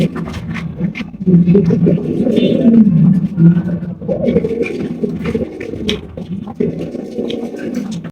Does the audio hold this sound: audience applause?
no